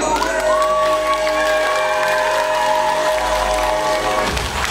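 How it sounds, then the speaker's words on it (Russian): Audience applause at a year-end school or dance concert, a dense steady clapping wash over sustained music tones, loud and continuous throughout, with some crowd noise. "Встречайте ваши аплодисменты!"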